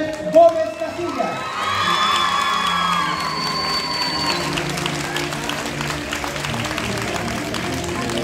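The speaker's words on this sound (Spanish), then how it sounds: "solicitamos un fuerte aplauso para su madrina de grupo" Audience applause and cheering at a school graduation ceremony, a sustained crowd roar of clapping with whoops and children's shouts, loud and continuous, with voices mixed in.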